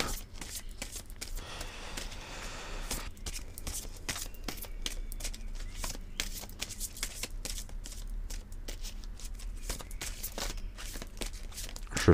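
A deck of cards being cut and handled on a table, a run of crisp riffling snaps and soft card slaps, close, with faint voices in the background.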